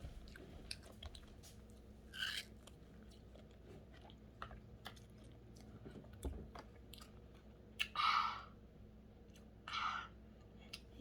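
Someone chews homemade ice cream made from drinks with added pearls, producing soft close-up crunches and bites scattered across a quiet room, with a few louder crunchy bursts.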